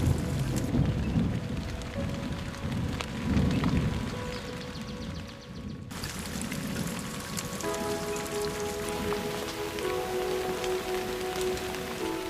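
Steady rain falls with a dense patter on surfaces, continuous and fairly close, with a faint low rumble underneath.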